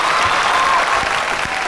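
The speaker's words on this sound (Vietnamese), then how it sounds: "Vỗ tay." A studio audience at a Vietnamese children's talent show claps loudly and steadily, a thick, even wash of applause that continues throughout, with a faint voice mixed in.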